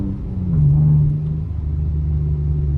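A car engine revs and accelerates with a steady low rumble, heard close up from inside the vehicle.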